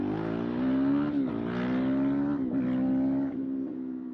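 A Honda CRF450L dirt bike engine revs and accelerates close by, its tone rising and dipping through several gear changes in one continuous loud run.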